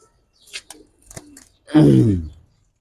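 Fancy gorra pigeons kept in a loft give one short, throaty coo, heard close by after a few faint rustles and clicks.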